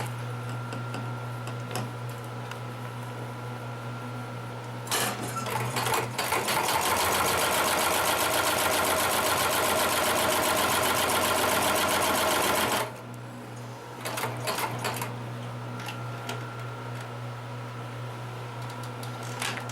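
A Consew 733R-5 sewing machine stitches through thick saddle leather, a loud, steady rapid mechanical chatter lasting several seconds between quieter motor hum before and after.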